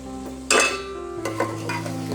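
Chicken nihari masala fries in a metal pot, with a close spoon scraping and clanking against the pot over a steady low sizzle.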